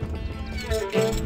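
A horse in the Stronghold Crusader strategy game lets out a short, close neigh with clip-clopping hooves behind it, lasting about a second.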